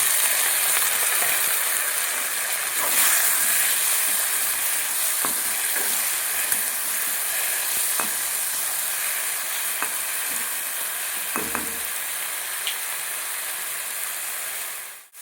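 Finely chopped onion, tomato and moong dal fry in a pan with a steady close sizzle, broken by occasional scrapes and clicks of stirring.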